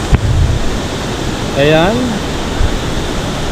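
Constant rushing river water splashes nearby at a resort cottage, a dense steady wash filling the scene while a voice speaks briefly over it.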